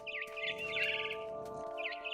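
Bird chirping in the game What Remains of Edith Finch, repeated twittering phrases over a steady tonal background hum, with a short pause before the calls return.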